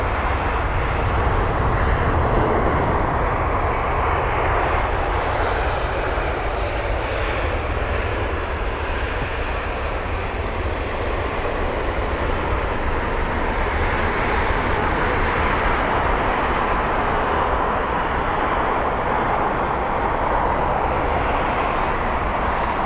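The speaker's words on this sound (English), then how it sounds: "There's a Scandinavian Neo," A Scandinavian Airlines A320neo jet on approach to land at London Heathrow gives a steady, broad engine roar that holds throughout, fairly loud and alone with no talk.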